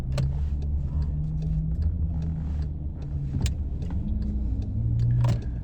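A car idling and creeping along in stuffy stop-and-go traffic, a low engine rumble heard from inside with faint passing vehicles and occasional clicks and knocks.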